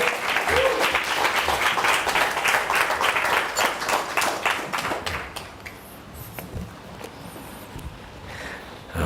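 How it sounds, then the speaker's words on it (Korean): A church congregation applauds steadily at a revival meeting, a dense wash of many hands clapping that gradually thins and fades toward the end. "박수 쳐주셔서 고맙습니다."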